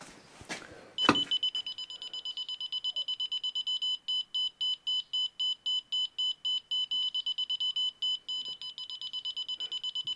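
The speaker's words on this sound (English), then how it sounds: "When there's a fast beep, it's too low." A laser level receiver set against blockwork emits a rapid, regular train of loud electronic beeps after an initial thump, continuing evenly and close by with no talk.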